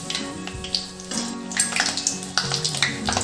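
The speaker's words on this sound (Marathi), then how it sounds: "तेलाचे बुडबुडे कमी झाले की आपण शेव पलटी करून घेऊ" Garlic sev fries in hot oil for Diwali snacks, giving a dense, continuous sizzle and bubbling close by, with soft music-like tones underneath.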